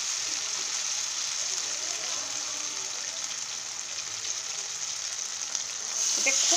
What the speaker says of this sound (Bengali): এখন একটু গোল গোল করে মশলা সহকারে এরকম